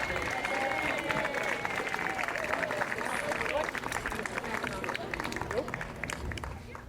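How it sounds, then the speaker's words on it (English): An audience claps for jazz band students at a school band concert, a mixed crowd applause with scattered sharp claps and background murmur running steadily, tapering a little toward the end. "So let's give one round of applause for these wonderful students before us here."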